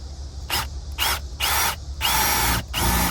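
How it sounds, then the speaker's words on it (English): A power drill bores holes through a metal bumper on a Power Wagon truck, five separate bursts of whining drilling with short pauses between, close and loud with no talking. "I'm just gonna drill some holes."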